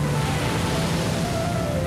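Water from a burst pipe gushes in a cartoon scene, a loud, steady broadband rush that holds without a break.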